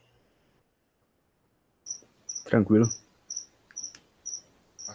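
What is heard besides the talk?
cricket chirping in a bedroom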